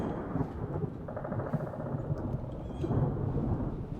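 Thunder rumbles through steady rain in a medieval RPG sandbox game, a continuous low roar that swells louder near the end, with a brief crackle partway through and no talking.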